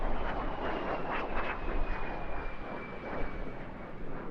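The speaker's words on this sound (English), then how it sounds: "The de Havilland Vampire was Norway's first jet fighter." A de Havilland Vampire jet fighter flies past at an airshow, a steady, loud, broadband jet roar with a thin whining tone that holds throughout.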